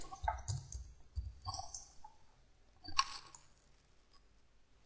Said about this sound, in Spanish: Con doble clic sobre ella, podemos cambiarle el nombre.